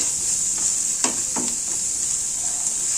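Cabbage chutney mixture sautéing in a pan, giving a steady bright hiss of frying, with a few soft scrapes as it is stirred, close and continuous without speech.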